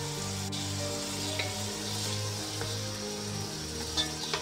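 Mutton pieces with tomatoes, salt, chili, turmeric and garlic-ginger paste fry in a pan with a steady close sizzle, broken by occasional soft clinks and stirring.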